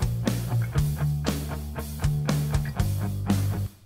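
Programmed MIDI drum pattern in Presonus Studio One, with steady kick and snare hits under a tonal backing, playing alone in a regular groove at moderate loudness.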